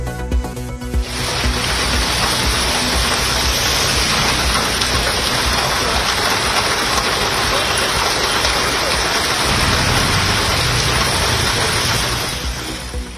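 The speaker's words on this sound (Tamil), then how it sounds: "கரூர், திருப்பூர், ஈரோடு மாவட்டங்களில் கனமழை." Heavy rain falls steadily across the Karur, Tiruppur and Erode districts of Tamil Nadu, a loud, dense and continuous downpour that stays constant from start to finish with no voices.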